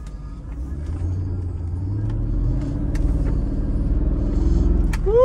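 A Mercedes SL500 car pulls away and drives, its engine a low steady rumble that builds gradually as it accelerates, close and fairly loud, with no talking.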